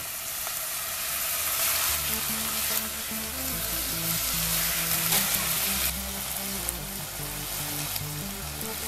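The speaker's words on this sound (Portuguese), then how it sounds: "Vamos acrescentar os nossos camarões, ok? Que nós já estávamos deixando marinando. Agora vamos dourá-los também." Marinated shrimp frying in dendê oil in a pan for bobó de camarão, a steady loud sizzle with some stirring, continuous and close, no talking.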